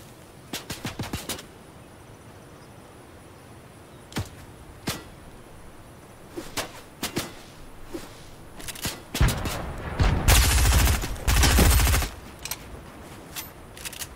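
SMG gunfire in a video game: several sharp bursts of rapid shots, spread unevenly across the stretch, with a louder dense burst of fire near the end.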